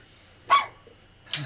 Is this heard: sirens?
no